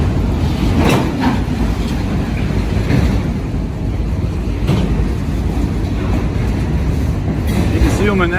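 Long freight train hauling automobiles rolls steadily past close by on a street-running line, a continuous loud rumble and clatter of wagons with a faint squeal of wheels near the end.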